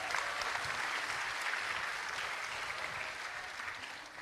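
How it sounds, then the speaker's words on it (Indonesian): A large crowd of thousands at a student gathering applauds in a steady, dense roar of clapping that holds at full strength throughout. "Boleh tepuk tangan untuk kita semua."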